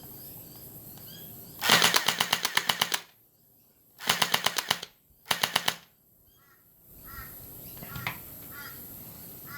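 A Sig Sauer P226 gel blaster test fires in three rapid bursts of sharp, evenly spaced shots, the first longest, loud and close in an otherwise quiet room.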